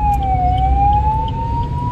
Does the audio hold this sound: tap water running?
no